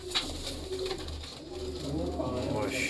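A breeder's pigeons coo softly in the background, low and continuous beneath someone speaking nearby.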